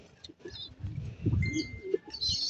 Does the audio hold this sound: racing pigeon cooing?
yes